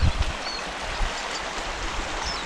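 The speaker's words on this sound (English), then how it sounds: "Quite a nice river, actually." A river flowing steadily with a broad, continuous rushing hiss, even and moderately loud throughout, with a few low knocks at the start and no talking.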